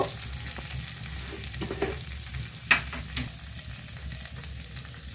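Tomatoes fry and get stirred in a pan for a butter paneer masala made without onion. The sizzle holds steady and close, with a few spatula scrapes and one sharper clink partway through. No one speaks.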